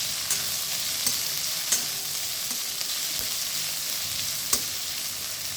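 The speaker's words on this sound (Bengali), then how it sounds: "বেশ হালকা রং ধরা অবধি আমি ভেজে নেব।" Chopped onion and garlic fry in a pan with a steady, close crackling sizzle, broken by a few sharp ticks of stirring, with no voices over it.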